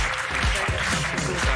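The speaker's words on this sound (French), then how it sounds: "Applaudissements pour lui." Live television studio audience applauding French Interior Minister Gérald Darmanin, a brief, loud burst of dense clapping with a few heavier low thumps mixed in.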